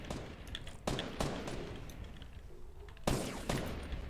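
Gunfire in a video game shootout: a few sharp, loud shots spaced irregularly over steady background game noise, with no talking.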